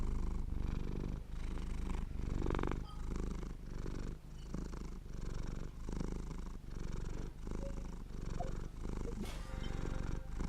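Cat purring in Genshin Impact as it is petted, a steady low rumbling purr pulsing in regular cycles throughout, close and continuous with no talk.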